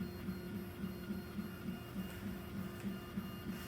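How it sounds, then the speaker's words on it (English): A Ratrig V-Core 3.1.1 3D printer running fast at around 200 mm/s, with a 4028 blower fan cooling, gives a steady, faint machine hum under rhythmic low stepper pulses repeating roughly every third of a second, with no voices. "I believe this is printing at about 200 millimeters per second currently."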